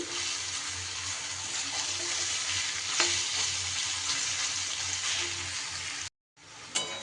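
Steady crackling sizzle of onions frying in a pan, continuous and close, with a brief cut to silence near the end before the sizzling resumes.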